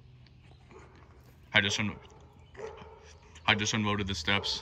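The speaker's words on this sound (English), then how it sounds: "My neighbor's dog is barking." A neighbor's dog barks in two short bursts of several sharp barks each, fairly close, between stretches of someone talking.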